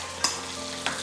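Two eggs cracked into a pan with a little oil, being mixed together while cooking for pad Thai, giving two brief scraping, sizzling bursts over a low steady background hum.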